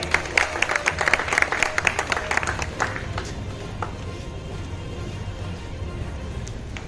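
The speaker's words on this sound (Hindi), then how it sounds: "जोरदार तालियों से स्वागत करिए।" An audience claps loudly to welcome a guest at an Indian gathering honouring freedom fighters, with dense crisp claps for about three seconds that fade into a quieter murmur of background noise.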